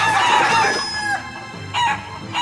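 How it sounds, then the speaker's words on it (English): Chickens cluck and squawk in short, shrill bursts close by during a chicken-catching minigame in the video game Shenmue 3, with a rooster-like call over a faint steady background. "catching consecutive chickens can be quite difficult"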